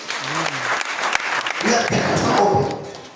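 A church congregation breaks into applause after a preacher's call: a voice speaks first, then a burst of many hands clapping fills the room and holds strong to the end.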